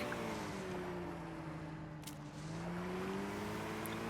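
Gas-powered boat engine in the fishing game Call of the Wild: The Angler, a steady droning hum with faint shifting pitch, running continuously and fairly close throughout.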